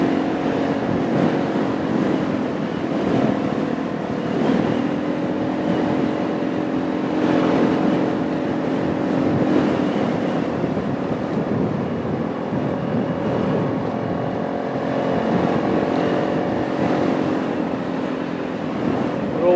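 Motorcycle cruising steadily along open country roads in Wales, a continuous engine drone with steady harmonic tones and wind rush, loud and close throughout with no talking.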